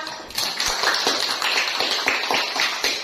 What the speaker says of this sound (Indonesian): berikan aplaus kepada si Andreta